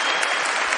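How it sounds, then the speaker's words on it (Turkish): Studio audience on a Turkish TV talk show applauding, a dense steady burst of clapping heard alone and close. "Gitmem diyenler bir alkışlar mı?"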